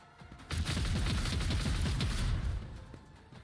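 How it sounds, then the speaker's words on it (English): A heavy bolter firing in Rogue Trader: a loud, rapid burst of booming shots that hammers steadily for about two seconds, then trails off into a fading rumble. "what can we do with this heavy bolter of hers? Kaboom?"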